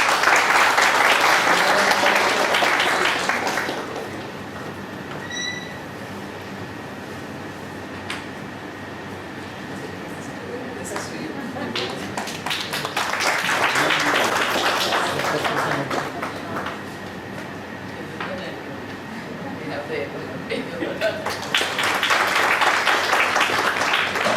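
A workshop audience in a hall bursts into loud, sustained applause, with three swells of dense clapping separated by quieter stretches of room hum, a fan and scattered claps.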